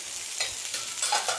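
Eggplant pieces sizzling in hot oil in a wok on medium-low heat while being stirred, a steady close fry hiss with soft scraping stirs throughout.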